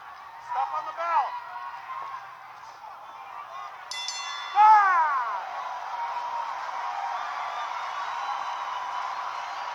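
A boxing ring bell rings once to end a round in a professional fight, a bright clang amid steady arena crowd noise, with commentators talking before it.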